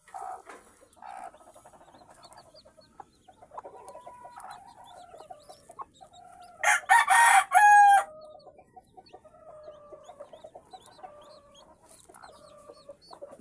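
A mother hen with freshly hatched chicks clucks softly and steadily, joined by faint chick peeps, while a loud, close rooster crow cuts through midway.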